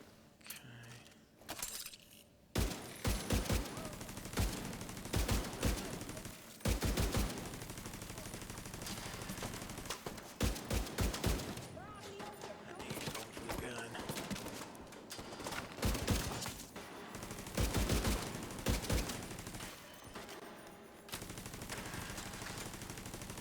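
Bursts of automatic gunfire in The Division 2, a third-person shooter, come in repeated volleys with short pauses between them, loud and close over a steady game soundscape with scattered mechanical rattles.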